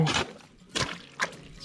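Water trickles and splashes by gravity out through a pipe of an abandoned water collection system in three short surges separated by quieter gaps, close by, with a faint liquid gurgle between.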